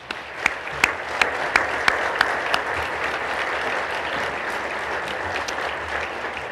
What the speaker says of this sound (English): This round of applause is a sincere appreciation for everything you do.